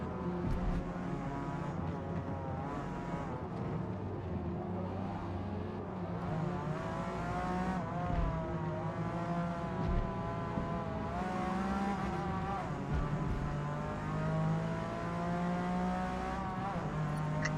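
V12 car engine in a racing video game, revving and droning continuously with rising and falling pitch as it accelerates through gears, loud and close throughout with no talk over it.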